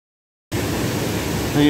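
Adams Falls sends up a steady broadband rush of falling water after a moment of silence, dense and even, like continuous white noise without voices.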